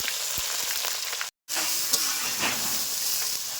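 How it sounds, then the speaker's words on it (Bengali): Onion and green chilies sizzle in hot mustard oil with whole garam masala in a kadai, a continuous crackling hiss with a few stirring clatters and a brief gap of silence midway. "কড়াই দিলাম সর্ষের তেল গরম মশলা ফোড়ন পেঁয়াজ আর কাঁচা লঙ্কা দিয়ে দেব"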